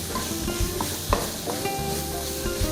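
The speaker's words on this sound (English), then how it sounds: "Now we're going to add our curry paste. Okay, because I want to saute those as well." Curry paste sautéing in a pan while being stirred: a continuous close sizzle broken by spoon scrapes and light clinks at irregular intervals.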